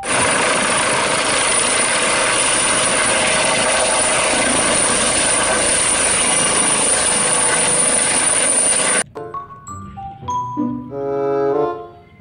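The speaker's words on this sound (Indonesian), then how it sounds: "lihat teman-teman, ada helikopter" A helicopter's loud, steady rotor and engine roar fills the air for about nine seconds, then cuts off abruptly to quieter, different sounds.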